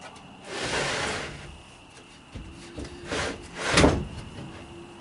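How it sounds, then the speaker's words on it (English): Pull-out cleaning drawers on a wooden brooder coop slide open and shut in three scraping, rubbing strokes, with a soft knock between them, all close and clear with no talking. "We got drawers pull out where we can clean this."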